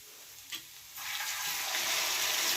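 Ginger and garlic sauté over a low gas flame in a pan, a soft sizzle that swells into a steady, fuller hiss after a brief stir, fairly quiet with no talking.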